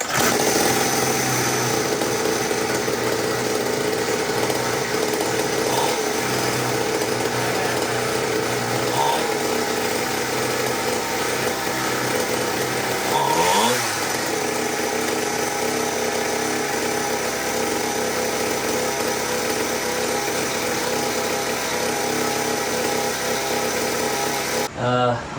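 A SYX Moto motorbike engine runs continuously after carburettor and spark repairs, a loud, steady buzzing drone throughout with a brief change in pitch midway.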